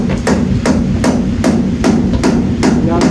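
Hammer blows pound something in a steady series of about eight sharp, loud strikes roughly every half second over a constant background hum.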